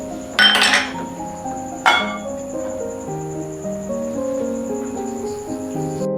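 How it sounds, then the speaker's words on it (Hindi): A lid is lifted off a cooking pot of simmering plum chutney, with two sharp metallic clinks close by followed by a faint ringing tone and quiet background. "ये देखें ढक्कन उठाया,"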